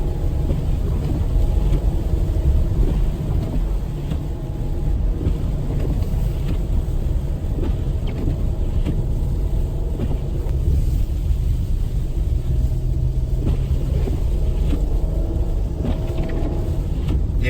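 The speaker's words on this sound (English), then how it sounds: "I'm stopped on a pretty steep hill here, spinning a little bit, and grips, so not too bad." A car on Cooper Discoverer AT3 4S all-terrain tires sits on a steep snowy hill, giving a steady, loud low rumble throughout, with no clear bursts and no talk.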